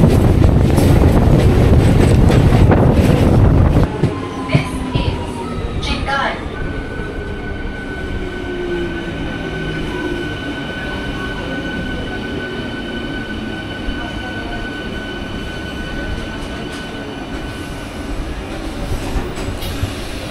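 A Digha–Howrah local train rolls along rain-wet rails, a loud rumbling roar at first that drops into steady wheel noise with squealing tones, close and continuous.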